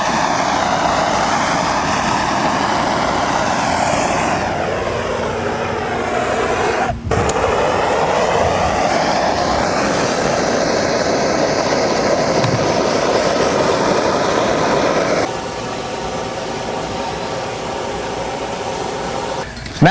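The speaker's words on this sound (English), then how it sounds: "he's going to take the torch and burn the grain and the ends right here" A propane torch roars steadily and loudly as it scorches the grain and ends of wooden boards for a DIY sports table, a constant broadband hiss with brief sharp clicks near the middle, shifting to a slightly softer tone toward the end.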